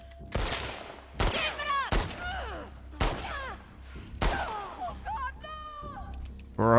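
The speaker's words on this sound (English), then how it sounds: "the shooting's crazy" Gunfire in The Last of Us Part 2: a handful of sharp, loud shots spaced about a second apart, each followed by ringing echoes and debris, near and punchy, with a voice speaking briefly among them.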